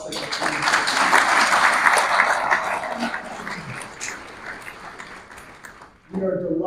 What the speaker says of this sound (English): So give yourselves all a round of applause.